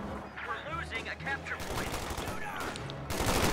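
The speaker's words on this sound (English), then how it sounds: "we're just getting destroyed by those machine guns" Rattling bursts of machine gun fire in the World War II strategy game Company of Heroes 2, repeated rapid volleys with a louder burst near the end, mixed with battle effects and a voice talking through it.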